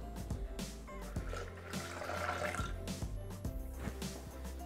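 Water poured into a Thermomix TM6 bowl over sugar to make syrup for mandarin liqueur, a steady close trickling stream heard alone over a low hum.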